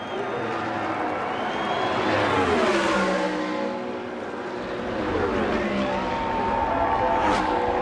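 An IndyCar race car's engine on the final lap of an oval race, a loud wailing howl that rises and falls in pitch as the car passes, with crowd noise beneath the roar.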